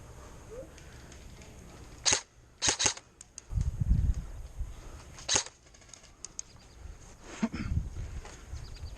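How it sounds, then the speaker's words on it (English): Sharp cracks of gunfire from an opponent shooting toward a tower during a game, several separate pops spread out, some in quick pairs, over low rumbling background. "he's shooting, like, towards us and at the tower"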